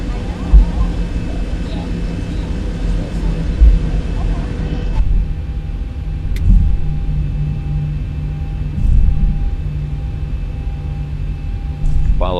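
Boeing 737 engines spool up for taxi in X-Plane 11, a steady low rumble with a rising whine that continues across the whole stretch under a voice.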